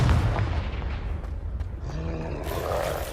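A Confringo fire spell blasts during a troll fight in the Hogwarts Legacy video game, a low rumbling boom with a roaring tail that swells and fades over a few seconds, with no talk over it.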